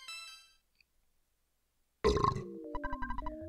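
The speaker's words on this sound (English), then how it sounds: "Burp." A cartoonish burp sound effect from the video game EarthBound, a short loud gurgling blast followed by a run of quick, bouncy musical notes, heard alone after a few seconds of near silence.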